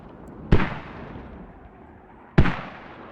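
Mortar rounds land in Squad, a military shooter, on the Narva map during a competitive league match: two loud, distant-sounding booms about two seconds apart, each with a rolling tail that fades out.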